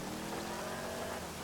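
Steady rain in the GTA V video game, a constant even hiss of rainfall with a faint low hum beneath, no voices.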